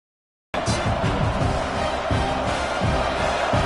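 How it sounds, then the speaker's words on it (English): A large crowd roars steadily after a sudden start, a dense, sustained wall of stadium noise at an Ohio State football game with scattered shouts and cheers throughout. "here comes the noise. This crowd is trying to inspire this defense"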